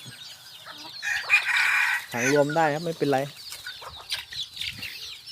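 Bantam chickens on a small backyard breeding setup, with a rooster giving one loud, close crow in the middle, surrounded by steady clucking and someone speaking over the flock.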